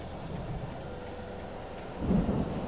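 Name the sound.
thunderstorm in Alan Wake video game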